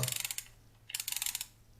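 The film advance knob on a Lubitel-166B medium-format twin-lens camera is turned, giving two quick runs of close, crisp ratcheting clicks with a short pause between them; no talking.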